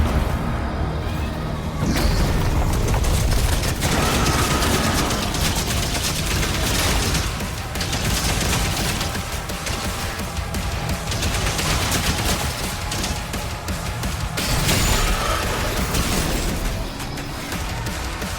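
Loud, dense gunfire and explosions from the shooter game Doom The Dark Ages pound almost without pause, rapid bursts and booms layered over one another with only small dips in the barrage.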